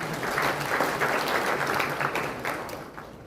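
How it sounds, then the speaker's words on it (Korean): Audience applause at a Gyeongsangbuk-do provincial citizens' report meeting, a steady crowd of clapping hands sustained for several seconds before thinning slightly at the end, with no talk over it. "이런 말씀 들려주신 두 분께 다시 한번 감사의 박수 부탁드립니다."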